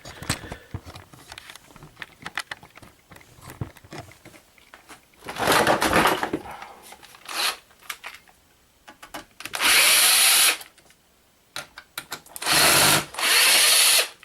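A power screwdriver unscrews screws from a dead flat-screen monitor in several short, loud whirring bursts separated by quieter handling and clicking noises.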